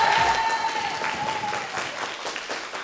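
An audience at a school slam poetry workshop applauds a performer, dense steady clapping from a crowd that fades gradually over a few seconds, with no talk.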